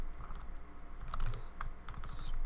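A computer keyboard clicks through a short, quick run of typing at close range, with a few sharper key taps standing out over a quiet room.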